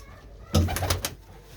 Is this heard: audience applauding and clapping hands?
no